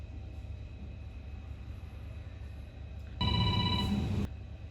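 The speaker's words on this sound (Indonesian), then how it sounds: "Oke, kita telepon Bapak Daniel" A telephone ring sounds as a call is placed during a monitoring and evaluation meeting: a single clear burst of about a second near the end, over a steady low room rumble.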